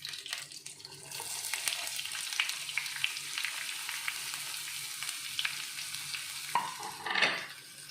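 Chopped onion, green chili and okra stir-frying in a pan for Kerala vendakka thoran: a soft, steady sizzle with scraping and stirring clatter, and a louder stir near the end.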